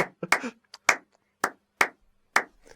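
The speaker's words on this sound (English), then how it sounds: "let's just clap in here" Hands clap out a little rhythm: several sharp, close claps in an uneven pattern with short gaps between them.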